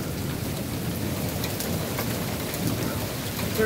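Heavy rain in a severe thunderstorm in Monroe, Michigan, a dense constant hiss of downpour with low thunder rumbling underneath, loud and unbroken.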